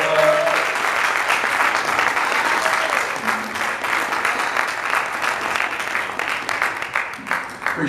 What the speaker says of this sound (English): I want you guys to receive him with a warm round of applause